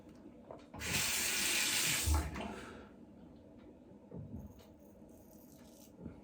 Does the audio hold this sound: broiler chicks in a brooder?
no